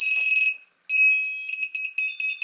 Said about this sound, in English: So the buzzer, since we're not bound, is going to be beeping like crazy